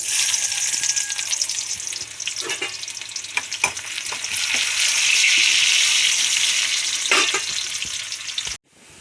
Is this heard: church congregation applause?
no